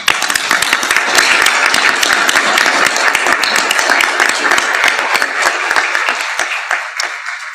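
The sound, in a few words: audience applause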